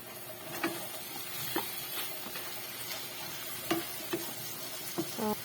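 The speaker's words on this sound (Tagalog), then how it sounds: "so i-add na po natin itong ating pichay, guys. Haluin." Pechay stirred in a hot frying pan, a soft steady sizzle broken by several sharp scraping clicks of the utensil against the pan.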